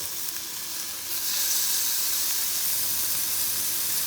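Oil sizzling hard in a pan as a gluten-free chicken vegetable stir fry begins, a steady close hiss that swells louder after the first second and holds with no voices.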